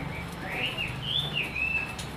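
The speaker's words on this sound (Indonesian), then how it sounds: "ini ada stok burung cucak timur" A cucak timur songbird in a bird-shop kiosk gives a few clear, rising and falling whistled calls over about two seconds, close by, with steady low background noise and no talking.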